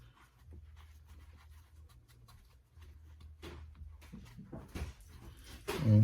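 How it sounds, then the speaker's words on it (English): A dog pants softly nearby in a garage during a Honda CR-V rear differential service, a steady quiet rhythm of breaths that ends in a louder rustling burst. "there comes my dog"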